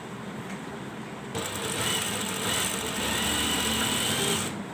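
A sewing machine stitches a ladies' belt shalwar in one continuous whirring run lasting several seconds, steady and close, starting and stopping abruptly.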